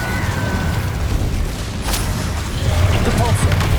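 Incendio fire spells are cast in the Hogwarts Legacy video game amid combat, producing a steady, loud roaring blast of flame with heavy low rumbling bursts that swell near the end.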